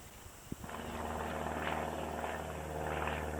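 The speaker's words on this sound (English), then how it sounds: "a small plane slipped in and out of the low cloud layer." A small plane flies in and out of a low cloud layer over a rainy June forest, giving a steady, moderately distant engine drone that swells in after a soft knock and holds throughout.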